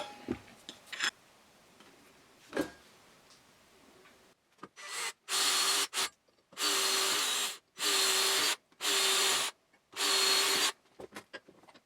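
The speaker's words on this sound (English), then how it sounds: "So I didn't find the step drill, but we can still do it like this with a file." Hand file rasping off about 1mm of material during a DIY 3D-printer build, in five or six loud, even back-and-forth strokes with brief pauses between them, after quieter handling noises.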